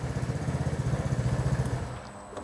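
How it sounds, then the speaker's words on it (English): A Vespa GTS scooter engine runs steadily with a fast, even low throb, heard close up and alone, then cuts off near the end. "just push the start button after the motor starts"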